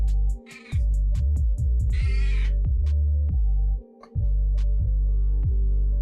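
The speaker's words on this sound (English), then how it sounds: "All I did was pick her up, and she screams." Pet cat screaming after being picked up: a string of close, loud, drawn-out yowls and meows over a steady low hum, with a few short breaks and one raspy, noisy cry partway through.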